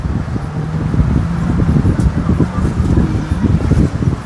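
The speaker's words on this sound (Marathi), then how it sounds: "थंड वारा येते" Cool sea wind blows across Murud beach at Dapoli, a low, continuous rumbling buffet against the microphone that fluctuates in strength and persists throughout the clip.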